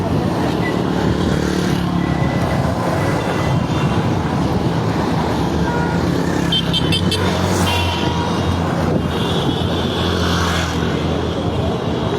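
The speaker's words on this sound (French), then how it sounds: "Camion privé." A private truck passes on a busy Kinshasa road, its engine a loud continuous rumble among traffic noise, with brief honks and voices mixed in.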